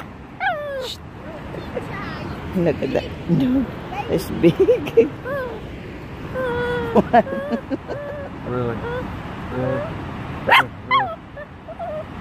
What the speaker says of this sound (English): Found a dog.